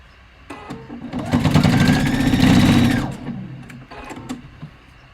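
A sewing machine back stitches across a robe jacket seam in a loud, steady run that builds, holds for a couple of seconds, then eases off, with brief softer bursts of stitching before and after.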